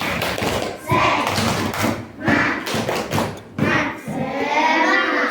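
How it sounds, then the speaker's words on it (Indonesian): Fourth-grade pupils in a classroom perform a rhythmic clapping chant, bursts of claps in patterned groups with thumping beats and children's voices calling along, loud and close. "Tepuk semangat."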